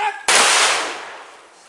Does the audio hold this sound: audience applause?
no